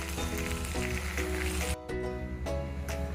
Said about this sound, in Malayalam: ഇനി നമുക്ക് മറ്റേ വശവും ഒന്ന് ഫ്രൈ ചെയ്തെടുക്കാം.